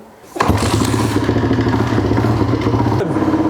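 An abandoned Kawasaki KLR dirt bike engine fires up abruptly and runs loud and close with a rapid, clattery putter, briefly changing pitch near the end.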